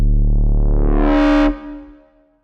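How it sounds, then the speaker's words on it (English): A synthesized foghorn built from distorted sine waves with reverb: a single thick, buzzy horn tone that rises and brightens for about a second and a half, then cuts off into a fading reverberant tail. "then we get a nice little foghorn."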